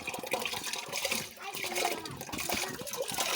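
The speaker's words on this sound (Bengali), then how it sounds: "এবার আমি চালটা ঢেলে দেব।" Rice pours into hot water in a pot, giving close splashing and trickling under a speaking voice.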